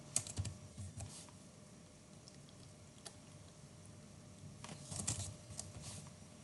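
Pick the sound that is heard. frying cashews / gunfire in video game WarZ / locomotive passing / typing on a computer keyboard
typing on a computer keyboard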